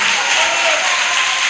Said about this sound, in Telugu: అందరము చేతులెత్తి చప్పట్లు కొట్టి